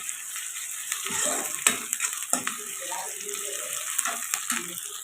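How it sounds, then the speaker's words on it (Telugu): Ginger garlic paste fries with onions in a pan for an egg pulusu curry, giving a soft, steady sizzle broken by sharp scrapes and clicks of stirring. "ఇప్పుడు అల్లం వెల్లుల్లి పేస్ట్ వేసుకోండి ఇది పచ్చివాసన పోయేదాకా ఫ్రై చేసుకోండి"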